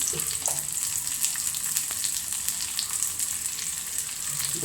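Onion, curry leaves and chili frying in hot oil for upma, a loud continuous crackling sizzle close up with a few faint stirring taps underneath.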